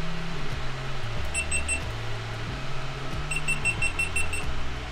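Two short runs of quick, high electronic beeps from a GoPro action camera, a few seconds apart, over a steady low background hum.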